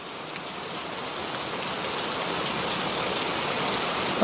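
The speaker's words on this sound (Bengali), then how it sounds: "এই বৃষ্টি বন্ধ হওয়ারই নাম নিচ্ছে না" Steady, dense rainfall pours down continuously, a heavy broadband hiss that builds slightly louder over a few seconds with no voices.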